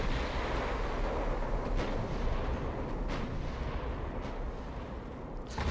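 Battleship guns fire in the naval video game Ultimate Admirals: Dreadnoughts, heavy rumbling booms rolling over a continuous low roar of sea and distant gunfire.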